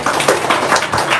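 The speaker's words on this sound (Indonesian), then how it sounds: "Tepuk tangan dong." Dense audience clapping fills the room, a loud, continuous wash of many hands with no pauses across the brief moment.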